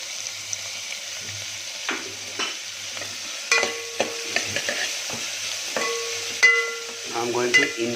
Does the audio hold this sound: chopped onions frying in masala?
yes